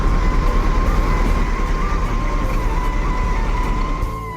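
A Sembodo coach bus (SPA 901) rolls into Kampung Rambutan bus terminal, a loud steady engine rumble with a sustained tonal hum, continuous and close throughout amid busy terminal noise.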